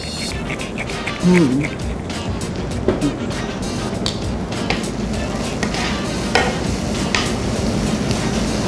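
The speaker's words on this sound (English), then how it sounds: "By sautéing it a little." Hot dog egg roll filling sautéing in a generous amount of oil, a steady close sizzle and stir running throughout while someone talks over it.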